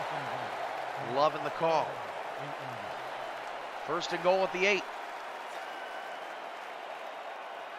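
Stadium crowd at a Sioux Falls at Dallas football game in Mullinax Oil Field, a steady broad roar running the whole way under a commentator's play-by-play voice.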